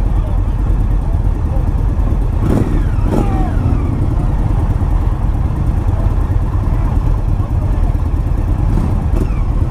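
A 2018 Indian Chief Dark Horse motorcycle with its 1800 engine accelerates in a steady, loud, throaty rumble that lasts the whole stretch, with a rider talking over it.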